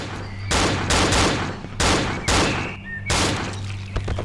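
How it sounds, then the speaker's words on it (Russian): Gunfire in the horror video game Cry of Fear, a rapid run of loud shots in several dense bursts, one after another, with brief pauses between them. "Кто палит?"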